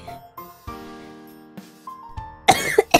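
A burst of harsh coughing from a sick person near the end, after a stretch of quiet background tones and faint murmuring, with a couple of quick follow-up coughs.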